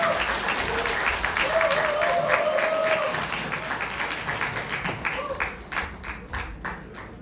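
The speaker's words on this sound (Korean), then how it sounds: "박수 소리가 작네요, 여러분들" An audience at a Tenrikyo church gathering claps steadily for an incoming lecturer, dense applause throughout that thins slightly toward the end, with faint voices mixed in.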